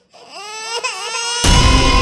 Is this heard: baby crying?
yes